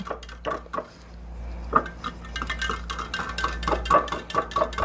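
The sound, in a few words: stirring pickling lime water in a container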